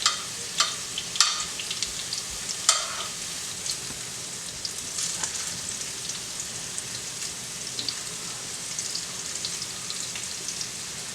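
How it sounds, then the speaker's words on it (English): Steady, gentle slow sizzle of breaded food frying in a pan, with occasional crackles and pops over a continuous hiss, no voices. "Nice little slow sizzle on that."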